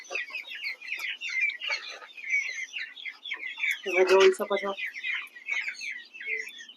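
Fancy chickens, Beltsville chicks about three months old, cluck and chatter in a continuous busy flock, close and fairly loud, with a brief louder squawk midway and someone speaking briefly over them.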